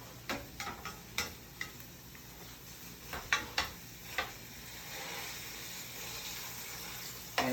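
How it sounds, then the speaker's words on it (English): Ground beef sizzles softly in a covered pan as it begins to cook, with scattered sharp clicks and taps of a lid or utensil over a quiet frying hiss. "now that the meat is starting to cook"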